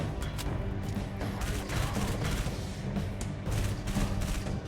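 Assault rifle fire in the video game Halo: ODST, rapid repeated bursts of shots in a dense, loud crackling rhythm layered over game music and background din.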